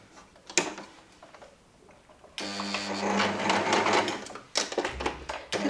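A sewing machine runs a 1 cm stitch along a trouser seam, a loud steady mechanical whirr lasting a few seconds after quieter handling clicks, with a brief pause and a short second burst near the end.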